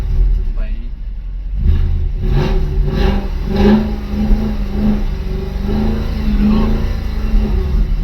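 A car engine revving close by, rising and falling in several surges over a steady loud idle, with people talking over it.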